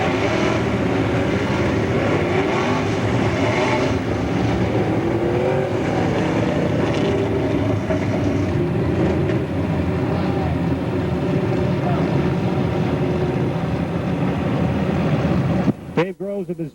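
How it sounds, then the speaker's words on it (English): Stock cars at Pennsylvania Motor Speedway in a STARS Penn National 100 race come off the fourth turn at the start, a loud continuous engine roar filling the whole stretch, with an announcer speaking over it. "Lynn Geisler bring the field off the fourth turn. And away we go"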